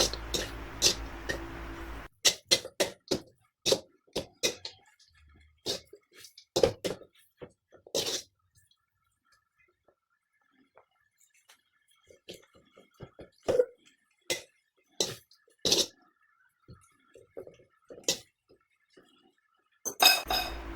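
Utensils clinking against a bowl while papaya noodles are stirred and mixed, a series of sharp, irregular taps and scrapes set among quiet gaps, with brief bits of talk in between.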